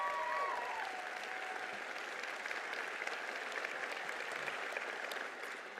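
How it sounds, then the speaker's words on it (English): Audience applause fills a law school commencement ceremony, a steady wash of many hands clapping at moderate loudness throughout, with a faint tonal trace near the start. "How about another round of applause?"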